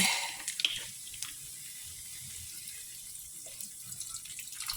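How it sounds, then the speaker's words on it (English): Tap water runs into a cooking pan in a home kitchen, a bright splashing gush at the start that settles into a quieter steady trickle, heard close and alone. "Put water in there."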